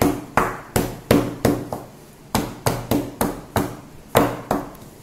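Cake tin filled with oats cake batter being tapped down on a counter, about a dozen sharp knocks in a fairly steady rhythm, close and clear with no talking.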